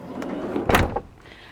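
A camper van door is unlocked and opened: a few light clicks of the lock, then one loud mechanical clunk and slide of the door, close by with no talking.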